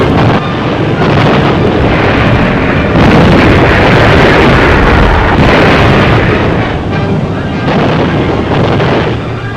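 Aerial bombs bursting on a German supply base in hot desert sand, a loud, continuous rumbling roar with swelling booms that never lets up, under occasional narration.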